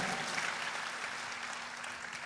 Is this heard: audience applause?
yes